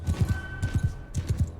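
Horse riders' hooves clopping in Mount and Blade Bannerlord, a quick galloping rhythm in three short bursts of thudding beats, moderately loud and close, with no talk over them.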